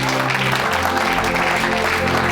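Congregation applauding at a French-speaking healing church service, a steady wash of clapping and crowd noise sustained throughout with a voice mixed in.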